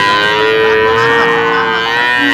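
A single long, loud moo from a Jersey-Friesian crossbred dairy cow, with a rich, steady tone, close by and sustained for a couple of seconds.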